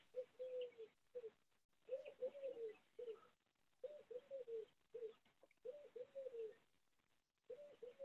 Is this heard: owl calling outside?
yes